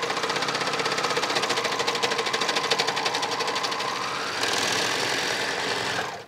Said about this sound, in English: this serger is a workhorse, so I know it was gonna get through all of that